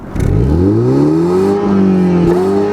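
A 2021 Mini Cooper S Countryman ALL4 in sport mode revs hard, its engine note climbing and holding in a loud, close sweep before dipping and rising again.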